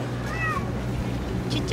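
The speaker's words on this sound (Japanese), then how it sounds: "猫が集まってきた。" Cats on Aoshima, a Japanese cat island, meow close by in a few short rising calls over steady outdoor background noise.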